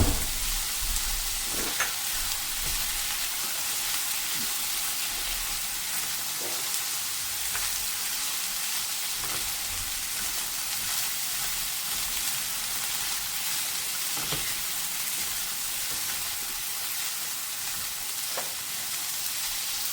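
Chopped beans and carrots frying in a pan for a Karnataka-style carrot, bean and potato palya: steady, close hiss and sizzle throughout, with occasional faint scraping clicks of stirring.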